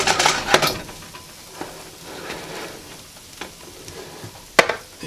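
A pancake frying in plenty of butter in a pan just after being flipped, a steady soft sizzle with a few sharp clinks and scrapes, close and moderately loud.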